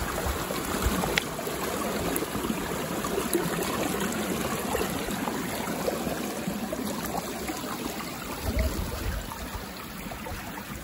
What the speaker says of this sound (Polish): Zobaczymy, jak wygląda strumyk pod mostkiem.